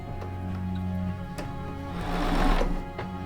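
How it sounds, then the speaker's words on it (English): Home sewing machine stitching quilt pieces with sashing, a close, rhythmic run of needle clicks and motor hum that speeds up briefly before easing off. "let me sew this one down"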